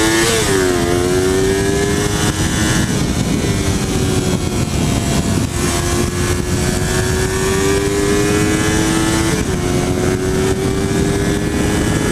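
An engine is revved through its throttle range, giving a loud, continuous droning whine whose pitch climbs and drops in several sweeps, close and without any voices.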